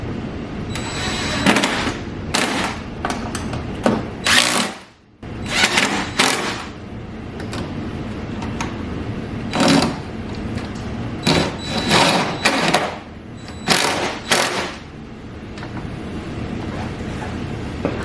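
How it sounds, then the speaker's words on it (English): A socket gun fastening a gull wing onto the channel system of a Toyota Land Cruiser 100, firing in loud, rapid rattling bursts separated by short pauses, close up with no talking. "we're going to take our socket gun"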